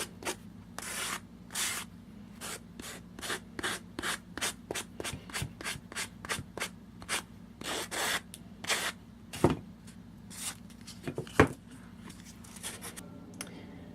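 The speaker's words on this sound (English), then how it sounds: "I'm just sanding cardboard" Repeated scratchy rubbing strokes of sandpaper on cardboard, close and fairly quiet, in an uneven rhythm with brief pauses.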